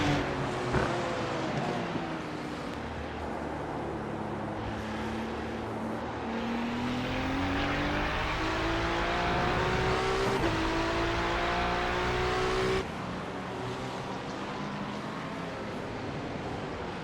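A Porsche GT3 race car drives on a small track at the bottom of a hill, its engine droning loud and steady with rising and falling pitch as it shifts through gears, another Porsche following close behind.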